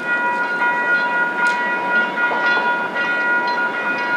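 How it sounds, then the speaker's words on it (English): A South Shore Line westbound commuter train arrives at a Northwest Indiana station, giving a steady, continuous rumble with a faint tonal hum that holds for several seconds without a clear horn blast. "The westbound train is now arriving."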